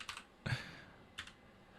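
Three quiet, separate bursts of typing on a computer keyboard, soft clustered key clicks with brief pauses between them and no voices.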